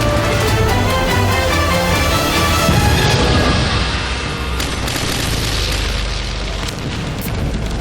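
Heavy booming explosions and rumbling blasts from a World War II naval battle involving the destroyer USS The Sullivans and attacking aircraft, loud and continuous with overlapping bursts and crackling debris.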